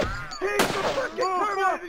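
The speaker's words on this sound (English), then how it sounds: "You shot the hell out of me!" Gunfire in the video game Sub Rosa: a sharp, loud blast near the middle, set among harmonic game tones and what seems to be a voice, with a dense, busy mix throughout.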